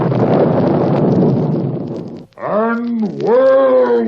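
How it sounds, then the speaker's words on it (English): A rumbling thunder effect conjured by Thor's enchanted hammer, a dense roar lasting about two seconds that cuts off sharply, followed by a dramatic voice speaking. "thunder"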